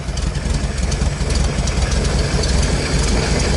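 A warm carburetted car engine idles steadily after starting, a loud low rhythmic throb close by, running slightly rough and uneven.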